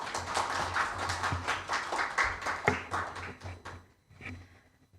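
An audience at a Korean business webinar on Incheon–Russia technology exchange claps in a brief round of applause, fairly quiet and uneven, fading out near the end.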